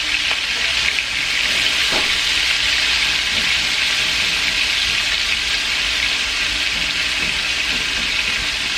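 Meat sizzles and spits steadily in a hot frying pan, a dense, continuous hiss at close range with faint clinks from stirring and no voices.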